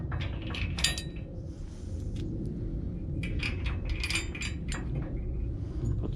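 Metal washers slid onto bolts on a dump trailer lock, with scattered light clinks and jangles in short bursts over a steady low rumble, close by.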